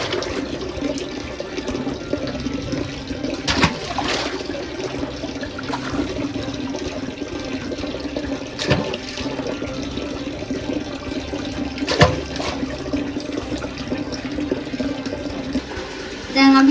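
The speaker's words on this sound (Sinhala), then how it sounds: "දැන් මේක වතුර දාන ගමන් තියෙන්නේ." Water runs steadily into a home fish tank after cleaning, a continuous pouring gush with a few brief splashes and knocks rising above it, close and moderately loud with no talking.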